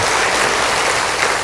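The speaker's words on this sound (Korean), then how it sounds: "우리 한번 박수 한번 해주세요" Loud, continuous clapping from a church congregation forms an even, close wash of sound with no speech over it.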